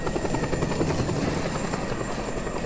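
Helicopter in the video game Just Cause 2, a steady loud whirring rotor drone that fills the whole clip without any break and has no talking over it.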